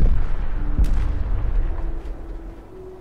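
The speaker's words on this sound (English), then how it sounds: "You shooting at me, are you?" Shots fired at the player in Fallout 4, a few low booming blasts early on that fade into a quieter rumble with a faint steady tone underneath.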